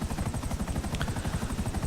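Helicopter in GTA 5 flying over the city, a loud rapid rotor chop pulsing evenly throughout.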